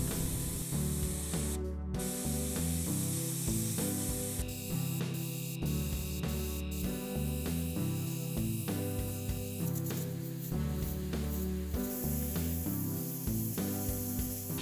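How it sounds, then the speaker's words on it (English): Airbrush spraying a buff and olive drab paint mix onto a 1/72 scale AH-1G Cobra helicopter model, a steady soft hiss running beneath loud continuous background music. "I tried to apply the paint in an even fashion in order to keep the tonal variation"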